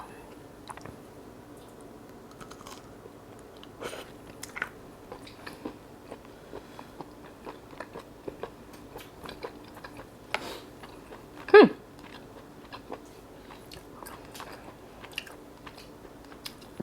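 Someone eats a sweet sausage from a Haidilao instant hot pot, with scattered soft bites and chewing, occasional faint clicks, and one louder crunchy bite near the end, all close and quiet.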